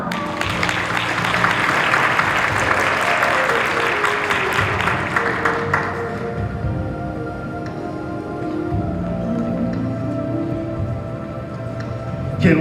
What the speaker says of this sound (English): Can we have another round of applause for the debutante?